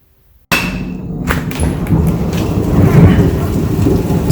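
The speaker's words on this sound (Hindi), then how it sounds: "बिकॉज बारिश हो रही है" Steady indoor rain with rolling thunder, starting abruptly and holding loud and continuous, with deep rumbles and a few sharp cracks throughout.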